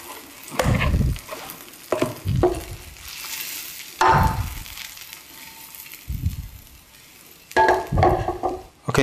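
About a tablespoon of vegan butter melts in a pan, giving intermittent bursts of scraping and stirring over a soft, low sizzle, close and fairly loud, with no voices.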